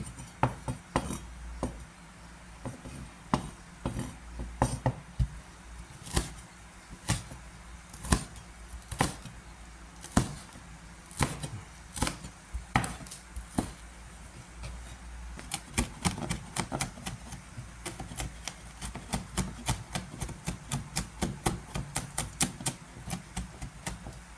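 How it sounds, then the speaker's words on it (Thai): Chili peppers are chopped with a knife on a cutting board in a home kitchen, sharp close taps that start irregularly and then settle into a quick, steady run of rapid cuts. "ทีนี้หั่นพริก"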